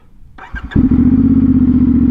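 A CFMOTO 450SS motorcycle with a slip-on exhaust starts with a brief clatter, then settles into a loud, throaty, rapidly pulsing idle right up close.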